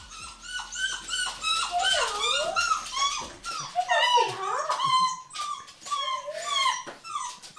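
A dog named Minton whimpers and cries close by in a continuous run of high, wavering whines and yelps, rising and falling without pause.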